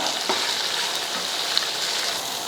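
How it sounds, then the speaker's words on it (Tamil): Onion and drumstick leaves sautéing in a pan for a chutney, a dense, bright, continuous sizzle heard up close and fairly loud, with a few faint scrapes and no talking. "முருங்கைக்கீரை இது கூடயே சேர்த்துடலாம் சேர்த்துட்டு வதக்கிடுவோம்"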